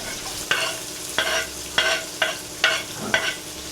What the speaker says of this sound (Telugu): ఉల్లిగడ్డలు వేసుకుందాం, పెద్ద సైజు ఒక 4